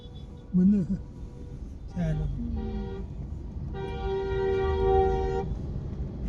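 Heavy daytime traffic on the Mumbai expressway, with a short toot and longer sustained car horn blasts sounding over steady road noise and engine rumble, while a voice talks intermittently.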